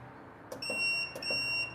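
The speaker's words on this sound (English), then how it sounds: "Man, that is the loudest beep I've ever heard." An electronic device with a switch, used in a home DIY setting, gives two pairs of loud, piercing high beeps in quick succession, close and alone.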